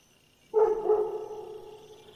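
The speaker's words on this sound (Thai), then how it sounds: "เสียงเห่าคล้ายหมาใหญ่ดังขึ้น" A large dog gives one loud, close bark that trails off over about a second and a half, with no voices nearby.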